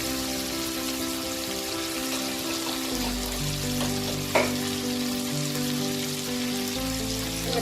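Chopped tomato sautéing in a spice mix in a pan for a Bengali chanchra with fish head and pui greens, giving a dense, steady sizzle up close with a single sharp clink midway and a faint droning hum beneath.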